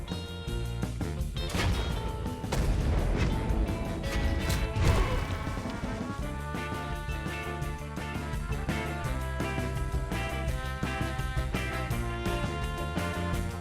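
Weapon fire in the Path to Nowhere video game, a run of sharp crashing blasts and impacts clustered early, then fading under a sustained musical score.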